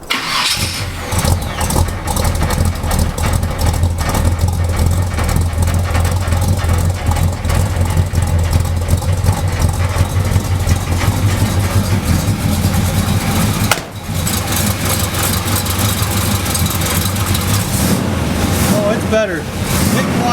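A squarebody Chevy truck engine with new exhaust gaskets idles steadily and loudly for most of the stretch, a low continuous drone that cuts out briefly near the end, with people talking over it.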